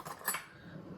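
Small spoon scraping seeds and white pith from inside a banana pepper, a few faint light scratches and clinks close by.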